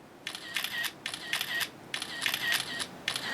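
An iPhone 4S camera fires its shutter repeatedly, four crisp clicks in quick succession, close and clear against a quiet room.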